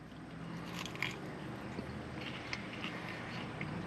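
Crunchy deep-fried mac and cheese being bitten and chewed up close, a few sharp crackling bites around the first second and later, followed by quieter moist chewing, fairly faint with no talking.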